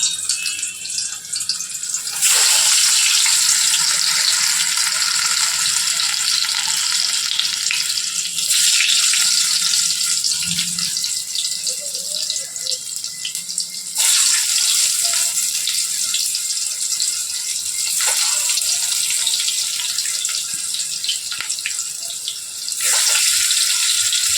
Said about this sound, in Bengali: আলুগুলো ফ্রাই হয়ে যাক